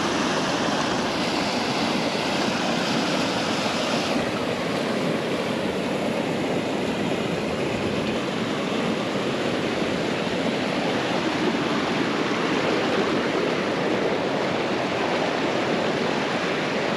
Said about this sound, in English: the water coming through the opening up the top there